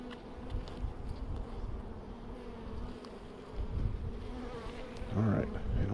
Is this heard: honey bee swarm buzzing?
yes